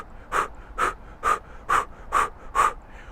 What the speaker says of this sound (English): with breath of fire, we're doing active exhale, passive inhale. That means you forcefully exhale and you relax when you inhale.